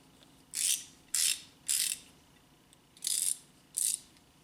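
Flex-head ratcheting wrench clicking in five short, crisp bursts of rapid pawl ticks, each close and clear with brief quiet gaps between them.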